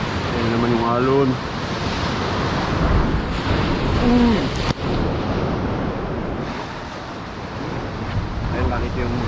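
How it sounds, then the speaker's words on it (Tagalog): Ocean waves wash and rumble in a broad, steady roar at a shoreline fishing spot, with wind buffeting the microphone and a brief thump midway; a few short voice-like tones surface briefly. "Yan naman yung alon."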